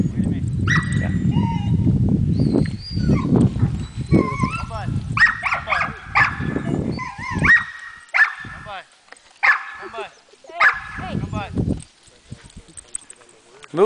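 A herding dog barks in short, sharp bursts spread across the clip, some whiny and yelping, with people talking and calling commands in between.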